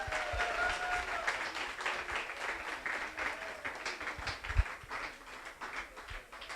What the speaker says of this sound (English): Please, a round of applause for Trevor.